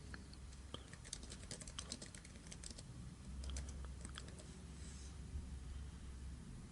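Quiet, steady tapping of keys on a computer keyboard as a username and password are typed, with irregular clicks in short bursts over a low background hum.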